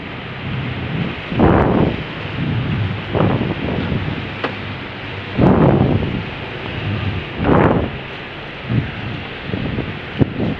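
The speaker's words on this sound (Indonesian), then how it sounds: "Hujannya deras sekali nih" Steady rushing heavy rain in Makassar with gusty surges and low rumbling bursts every few seconds, a constant wet hiss with no voices.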